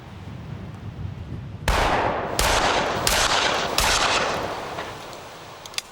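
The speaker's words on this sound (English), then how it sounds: "Last but not least in our series of tests, the shotgun." A shotgun blasts into a pair of jeans in a damage test, four loud, sharp reports at roughly even intervals, each a broadband crack with a short tail, over a steady outdoor hiss and no talk.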